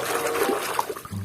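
A toy shaken in a container of water while being washed, a short sloshing, splashing swirl of liquid lasting about a second.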